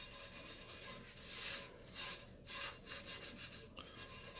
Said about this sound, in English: I'm just going to wipe around and see how easy it really is to clean this pan out